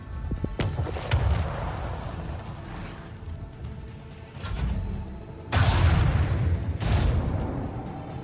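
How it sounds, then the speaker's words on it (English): Macro cannon barrage from a starship in Warhammer 40k: Rogue Trader, a series of heavy booming volleys with deep rumbling blasts that swell and fade, the loudest bursts arriving near the end, with no talking. "Initiate macro cannon barrage!"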